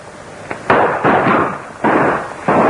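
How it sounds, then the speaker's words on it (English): Several hand-grenade and battle explosions in an old Marines action-adventure war film come as a rapid series of loud, close, booming bursts, each with a rough decaying rumble, without speech. "when we hear the explosion"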